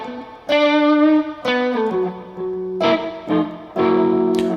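Electric guitar played through a germanium fuzz preamp with echo, sustained fuzzy chords struck one after another in short phrases, loud and alone with trailing repeats.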